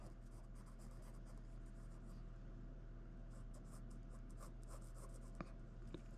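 Pencil drawing on paper: soft, continuous scratchy strokes in a quiet room over a low, steady hum, with a couple of slightly sharper taps near the end.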